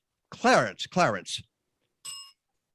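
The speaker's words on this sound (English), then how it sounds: "Every time you hear a bell ring" A short bright ring of a small bell follows a few seconds of talking, sounding once and fading quickly.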